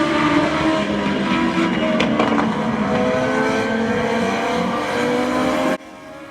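Legends division race cars run at Oyster Bed Speedway, giving a loud, steady drone of engines with passing swells. The sound cuts off abruptly near the end.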